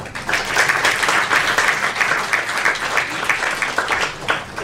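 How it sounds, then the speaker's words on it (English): An audience at a lecture breaks into steady, full applause, a dense wash of many hands clapping for several seconds with no talking over it. "let's all give a warm round of applause to Mr."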